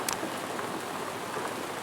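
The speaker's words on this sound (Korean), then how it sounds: "비가 오는 날" Rain weather in the survival shooter Road to Vostok: a dense, steady hiss of rainfall with fine droplet patter, continuous and even, with no voices.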